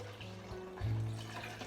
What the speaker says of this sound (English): put it into your blender, right, with 4 cups of water